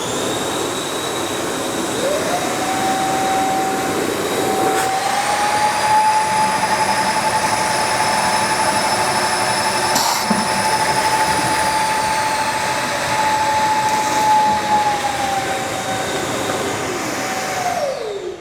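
A Milwaukee dual-battery wet/dry vacuum runs steadily and loudly throughout, its motor whine ramping up to a higher pitch, holding for a long stretch, then easing back down near the end, with no talking.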